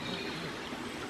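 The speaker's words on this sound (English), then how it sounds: "There's the little river" A little river flows through a wooded ravine with wild garlic and holly, a steady broadband rushing and trickling of water, even and unbroken for about a second with no voices.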